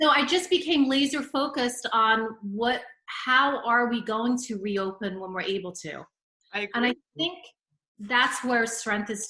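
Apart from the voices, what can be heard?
No distinct noise like a dog, phone or traffic.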